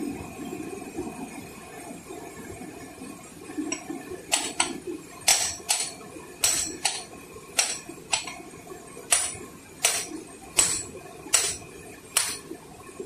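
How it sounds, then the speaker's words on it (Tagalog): Sharp metallic hammer blows strike stone about a dozen times, spaced roughly half a second to a second apart, over a quiet outdoor background in the Philippines with faint birdsong. "Try mo paluin lang na martilyo"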